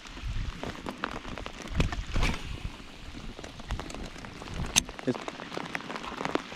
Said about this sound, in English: I could hear that rain coming through the trees.